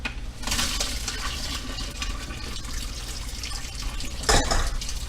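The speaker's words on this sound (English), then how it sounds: "so I run some water while it's draining." Whole wheat pasta drains in a kitchen sink while the tap runs, a steady close stream of water with metallic clinks and a sharp clatter near the end.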